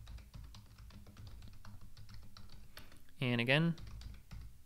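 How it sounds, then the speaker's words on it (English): Rapid tapping of keys on a computer keyboard as a password is entered, steady clicking throughout with a brief spoken phrase partway through. "I'm going to type in my password."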